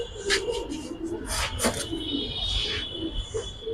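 Sabchila pigeons cooing in short soft bursts close by, with bright chirpy notes over a constant background hum and faint surrounding noise.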